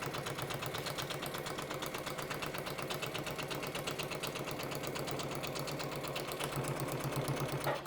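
A sewing machine running a long seam along the last side of an IKEA FRAKTA blue bag, a fast, even mechanical rattle of stitches that continues unbroken and fairly quiet from start to finish.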